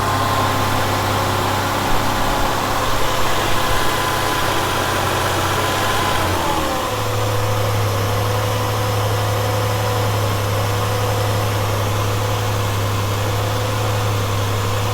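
A Ford Escape engine idles high and steady throughout with an idle air valve slow to respond, its pitch easing down partway through to a lower, even hum and staying there to the end.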